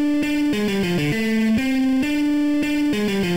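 A distorted guitar riff played alone, a repeating pattern of sustained, stepping notes at a steady, loud level.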